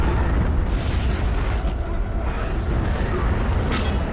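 A film explosion rolls out as a dense, sustained low rumble with a roaring, noisy wash that stays loud throughout without clear separate blasts.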